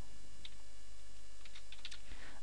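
Computer keyboard typing while entering a class name for a web page panel, a few scattered soft key clicks, quiet and close, over faint background hum.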